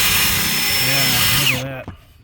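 A power brush whirs loudly as it scrubs soaked carpet in a Lexus LS430, a steady motorised drone that cuts off abruptly near the end.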